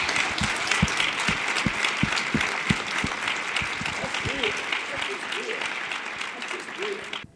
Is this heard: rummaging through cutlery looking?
no